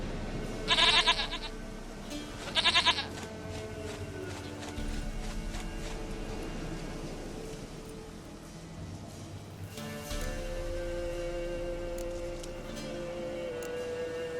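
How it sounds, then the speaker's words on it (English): Goat in the video game The Witcher 3 giving two short, sharp bleats close by near the start, followed by a steady ambient game soundscape with faint tonal music and no talk. "Goat of mine! Dearest, sweetest goat!"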